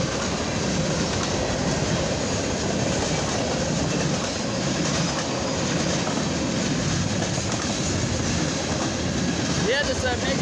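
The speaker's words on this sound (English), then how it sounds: "Yeah, this is a big train." A mixed Union Pacific and CSX freight train rolls past at close range, a loud continuous rumble of wheels and cars with faint clicking and a brief squeal near the end.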